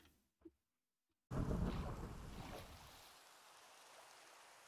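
Thunderstorm in the video game FieldCraft: a sudden loud rumbling burst of thunder, rolling and fading into a steady wash of rain and wind, following a brief quiet stretch with a faint click.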